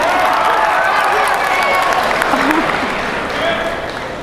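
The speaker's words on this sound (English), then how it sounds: "round of applause for our brave volunteer" An audience claps in a round of applause for a brave volunteer at a live speaking event, steady and dense throughout, with a faint voice under it.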